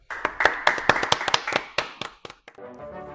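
A few people on a classroom podcast set clap, sparse uneven claps close to the mic, fading out into a short hum at the end.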